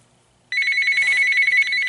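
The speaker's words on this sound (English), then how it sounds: "the phone's gonna ring in the middle of this" A telephone starts ringing after half a second of near silence, its bright electronic ring loud and close and sounding steadily to the end without any voices.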